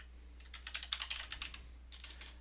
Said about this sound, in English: So I type in activate instance